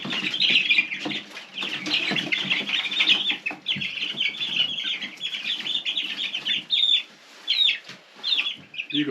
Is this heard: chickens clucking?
yes